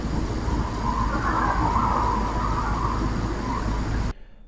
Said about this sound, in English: you can hear it sounds exactly the same audio frequency when that car drives by